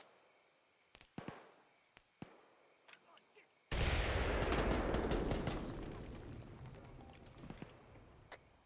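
Demolition charges blow up two BMP armored vehicles in Arma 3, a sudden loud broadband blast that rumbles and crackles for several seconds after a few quieter sharp clicks and pops.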